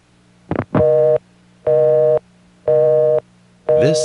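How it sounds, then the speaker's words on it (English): A busy signal plays on a completed call to a busy test number on a 1A ESS Centrex line, four even tone bursts separated by short gaps, loud and clear with a brief click before the first. "This is actually a completed phone call to a busy test number, which answers and plays the busy signal noise"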